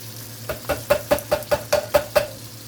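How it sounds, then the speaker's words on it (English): A can of diced tomatoes with their juice goes into a hot pan: about nine steady, rhythmic taps and knocks of a utensil over a low sizzle, with no talking. "Then we're going to add a can of diced tomatoes, but you're going to keep the juice."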